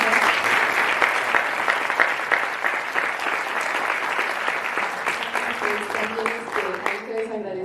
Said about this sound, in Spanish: démosles un aplauso a la doctora